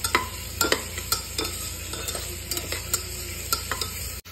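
Ginger, garlic and green chilies sizzle in hot oil in a pan while a spoon stirs them, with repeated scraping strokes over a steady frying hiss and no talking.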